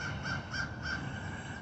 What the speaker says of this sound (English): I guess even the birds want to get in on the video,